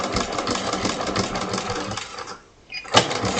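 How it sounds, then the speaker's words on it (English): A sewing machine back stitches fabric with a continuous close mechanical whirr and rattle that cuts out briefly near the end, then restarts with a short burst. "want to back stitch"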